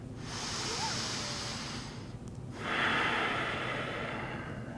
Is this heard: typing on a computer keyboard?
no